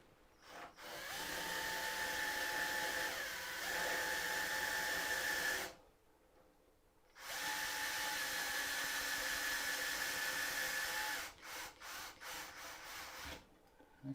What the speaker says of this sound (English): it's quite an easy task to drill the holes